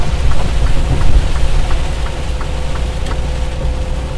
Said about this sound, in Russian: когда слишком сильный ливень